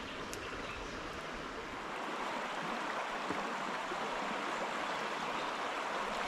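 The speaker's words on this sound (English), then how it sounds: "From the banks of the mighty Tibre River." Steady broadband rush of the Tiber River flowing past its banks in Italy, a continuous close water noise with no speech, holding even and unbroken throughout.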